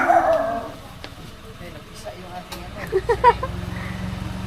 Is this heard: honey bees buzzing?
no